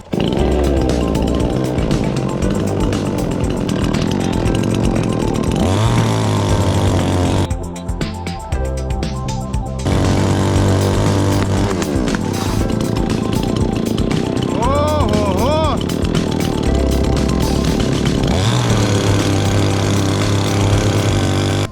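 Chainsaw cutting tree branches on a plot, its engine loud and continuous throughout, revving and bogging as it bites into wood, with people talking over it now and then.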